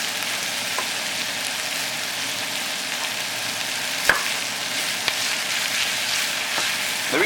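Spaghetti sauce ingredients frying in a pan: a steady, even sizzle with a few faint clicks and stirring taps, heard alone without voices.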